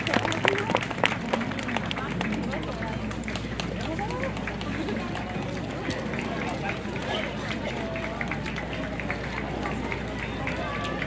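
Audience applause rings out for the Honiya yosakoi dance team on the Sanzuien slope at the 2015 Tosa no Okyaku spring evening festival, a dense, steady clapping from a large crowd lasting throughout, with some murmuring mixed in.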